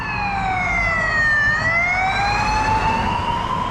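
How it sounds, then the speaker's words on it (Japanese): A Spanish police car siren wails loud and continuous through a rainy Barcelona street, its rising and falling tone sweeping steadily over low traffic rumble, with no voices. "あれはスペインのパトカーですね"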